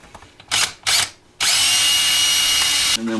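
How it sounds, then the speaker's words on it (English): A power drill bores a hole in a project box: two short bursts of the whining motor, then a longer sustained run that winds down at the end, loud and close. "we'll drill one hole for the power"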